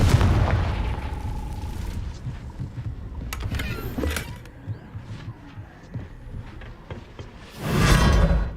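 A Confringo explosive spell from the game Hogwarts Legacy: low throbbing game ambience with a few muffled thuds, then a loud broadband blast that bursts out near the end.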